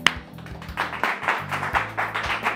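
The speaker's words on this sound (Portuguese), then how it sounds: "Batam palmas." Audience at a Brazilian family church programme clapping hands in a rhythmic, steady beat, moderately loud with a roomy feel and no talk over it.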